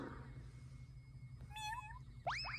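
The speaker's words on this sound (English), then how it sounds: "He's meowing! He's a cat!" A cat meows a few times, a short rising call followed by two sharper, louder meows near the end over a low steady background hum.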